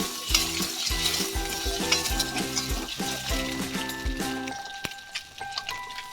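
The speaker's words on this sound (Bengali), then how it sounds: "আমাদের ডিম ভাজা হয়ে গেছে, এবারে তুলে নেব।" Eggs frying in a wok with turmeric and salt, stirred with a metal spatula: a steady close sizzle under regular, repeated scraping strokes against the pan, and no voices.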